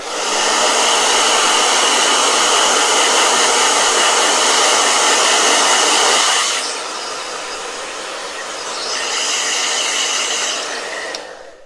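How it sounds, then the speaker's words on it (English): A hair dryer blows steadily to dry a watercolor painting, roaring loud and close for about six seconds, then dropping to a lower setting before briefly rising again and cutting off. "Let me blow dry real quick. Blow dryer!"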